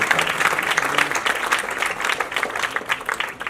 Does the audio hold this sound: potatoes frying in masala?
no